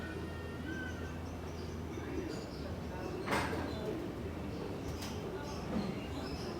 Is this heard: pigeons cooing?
yes